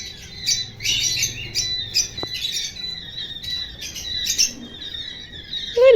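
Baby pet birds squawk and chirp while being handled and played with indoors, a run of shrill, repeated calls in short bursts, fairly close, with a few soft handling bumps and no talk.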